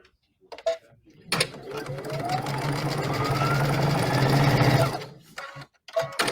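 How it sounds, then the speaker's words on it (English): A sewing machine runs a side seam for a flying geese pincushion in one continuous burst of rapid mechanical whirring and ticking, close and steady for about four seconds, with short handling clicks before and after. "I'm going to stitch down just this one side seam."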